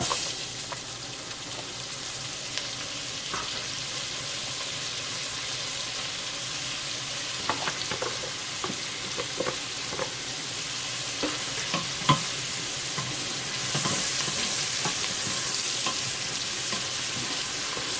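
Chopped onion sautéing in a pan with a few spoonfuls of leftover bacon grease, a steady close sizzle with occasional stirring scrapes and clicks, no voices.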